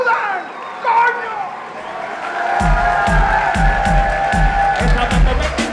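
Crowd cheering and shouting over music as a reggaeton act is introduced, a loud continuous roar with a steady pounding beat entering partway through and voices in the mix.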